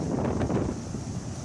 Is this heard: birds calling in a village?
no